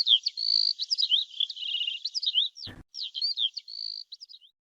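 Cartoon birds chirp and tweet in quick, high, warbling bursts that repeat almost without a break. A single sharp thump lands partway through, and no one speaks.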